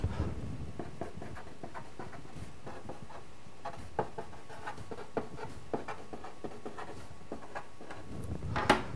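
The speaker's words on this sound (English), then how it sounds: "So let's write that down." Pen or marker writing out a math definition about continuity on a board or paper, a string of light taps and scratchy strokes at an uneven rhythm, close and fairly quiet.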